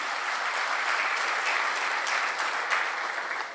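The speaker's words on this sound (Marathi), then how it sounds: "थोडा आवाज आणि टाळी जोरात व्हायला पाहिजे" Dense, steady applause from a large audience at a Nashik event welcoming a guest, continuous and loud for the whole stretch with no break.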